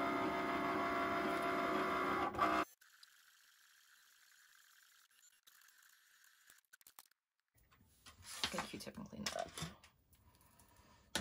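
Cricut cutting machine cutting shrink film: a steady mechanical whir and hum for a couple of seconds, then a quiet low buzz, followed by brief clattering and rustling handling noises near the end.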